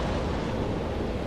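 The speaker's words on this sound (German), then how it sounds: "Oh, es kommt ein Tornado." Tornado wind in the Jurassic World Evolution video game sweeps toward a herbivore paddock full of dinosaurs as a steady, dense roaring rush with no break across the moment and no voice over it.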